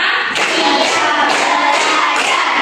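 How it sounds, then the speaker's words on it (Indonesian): A group claps along in a steady counted rhythm during a classroom warm-up, with dense, loud, continuous hand claps filling the space. "Tepuk 1, tepuk 2, tepuk 3, tepuk 4, tepuk 5"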